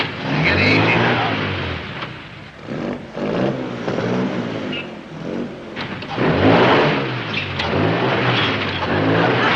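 A car engine revs and surges in uneven waves while the vehicle is maneuvered into a parking spot, the motor's drone swelling and easing close by for nearly ten seconds.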